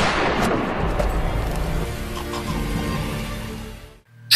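A gunshot from the Jason film with a close-range shooting scene: a loud blast opens, then rumbling, decaying reverberation and a tonal drone underneath, ending in a sudden cut and a fresh loud hit.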